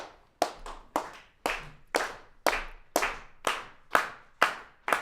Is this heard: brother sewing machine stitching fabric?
no